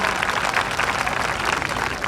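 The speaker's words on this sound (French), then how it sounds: "acclamez fort le roi des rois" Continuous applause and clapping from a congregation at a church evangelisation service, dense and steady with a few voices mixed into the crowd noise.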